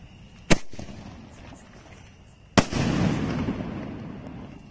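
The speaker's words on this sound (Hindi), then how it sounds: "अब इस येलो वाले स्काई शॉट को चला के देखते हैं कैसा जलता है।" A yellow sky shot firework goes off outdoors with two sharp close bangs about two seconds apart, the second trailed by a crackling fizz that fades.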